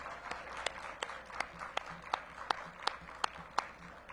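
Audience applause at a mayor's annual March Madness event honoring Vitality Fund recipients: faint, steady clapping with sharp individual claps standing out at a regular pace in a reverberant room.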